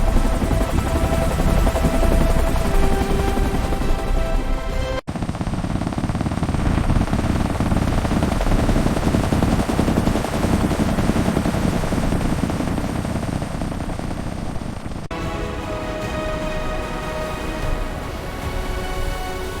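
A CH-53K King Stallion heavy-lift helicopter fills the scene with loud, continuous rotor and turbine noise. The tone changes abruptly twice, as if from a cut, and the din stays dense and roaring throughout.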